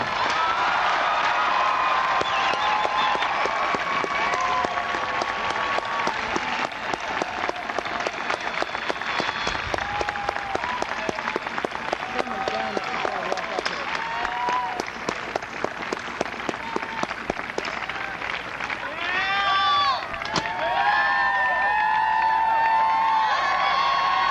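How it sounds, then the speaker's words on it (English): A large crowd at a 1990 Wesleyan University commencement applauds the new graduates in a loud, sustained roar of clapping, with cheers and whoops rising throughout and swelling again near the end. "join me, all of you, in applauding all of our newest alumnae and alumni"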